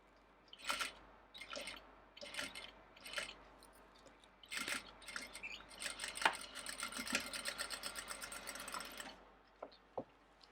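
A sewing machine stitching fabric while a pocket is being sewn, heard in short bursts at first and then a longer continuous run of stitching, fairly close, with no talking.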